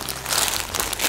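Crinkly plastic packaging is handled and pulled open while unpacking a parcel of clothing, giving a steady, close, continuous rustle with no talk over it.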